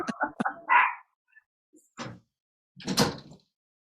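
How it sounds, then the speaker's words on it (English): A tiny five-pound female Chihuahua yaps indoors in a few sharp bursts, a quick cluster early on and another bark near the end, with quiet gaps between. "Can you hear my dog?"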